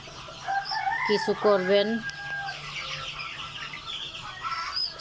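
Egyptian Fayoumi chickens cluck and one crows briefly, close and clear, with more fowl calling in the background, while a person speaks a few words.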